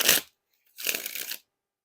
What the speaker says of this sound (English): We actually get some decent kind of like riffles and bridge shuffles out of these.